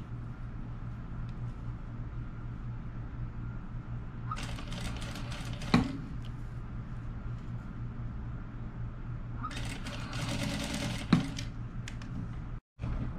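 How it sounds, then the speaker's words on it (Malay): Sewing machine stitching the collar of a nightgown, running in two loud bursts of rapid mechanical whirring separated by a steady background hum, with no talking. "Okey, kita jahit dia sampai habis."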